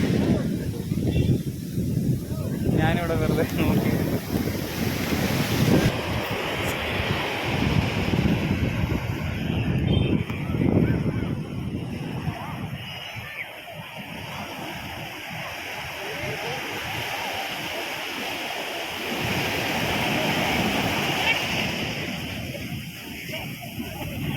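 Surf rolls in along a Kochi shore under gusting wind that buffets the microphone, a broad steady wash of waves heard with a person talking over it.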